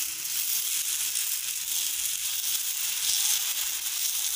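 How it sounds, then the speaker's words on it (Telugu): Mixed dal dosa batter sizzling on a hot oiled pan, a steady, bright, close crackling hiss that holds throughout without pause. "పెనము హీట్ ఎక్కాక మనం ఇప్పుడు దోశని యాడ్ చేసుకుందాము."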